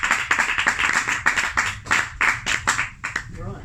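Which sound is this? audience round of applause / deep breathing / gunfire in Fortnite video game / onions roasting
audience round of applause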